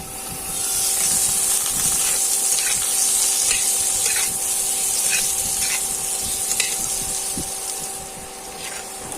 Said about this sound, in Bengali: ফ্লেমটাকে কমিয়ে আলুটাকে ঢাকা দিয়ে ভেজে নেবো